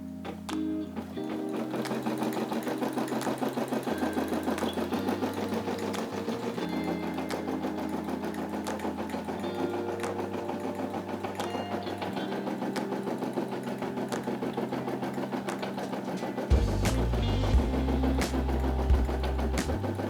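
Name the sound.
Brother SE600 embroidery machine stitching a family crest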